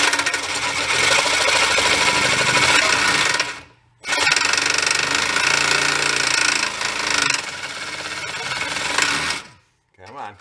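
A reciprocating saw cuts into a Toyota's body and gas tank area, a loud, continuous harsh buzzing rasp that stops briefly twice, with voices talking underneath.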